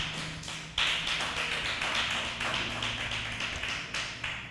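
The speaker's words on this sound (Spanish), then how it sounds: "Denle un aplauso al Señor." A church congregation claps together during a Spanish-language service. The applause is dense and continuous, with a sharp swell early on and then steady, even clapping throughout.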